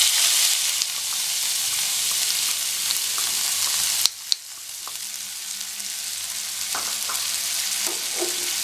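Okra fries in a pan with pounded shallots, chilli and curry leaves over medium flame, giving a steady loud sizzle throughout with a few scraping stirs and a brief clatter midway.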